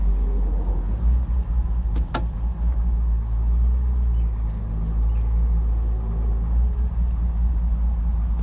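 A Mercedes 230SL with badly worn shift bushings idles after a cold start and pulls away smoothly, a steady low engine rumble throughout with a brief jingle of keys near the start.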